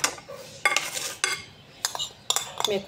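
Chicken pieces are tossed with zaatar, salt and black pepper in a bowl, with several close, crisp bursts of metal utensil scraping and clattering against the dish in an uneven rhythm.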